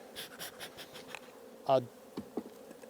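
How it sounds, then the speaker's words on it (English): Honey bees buzz around an opened hive being checked before a split, a steady insect drone with a few louder passes close by. "These are some kind of feisty bees here, I think."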